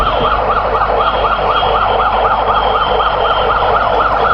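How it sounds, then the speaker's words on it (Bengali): An ambulance siren wails, cycling steadily and loudly, its rising and falling tone repeating over a low engine rumble, with no voices, at an airport plane fire in Bangladesh. "দপ্তর থেকে একটি অ্যাম্বুলেন্স এসে পৌঁছে গেছে"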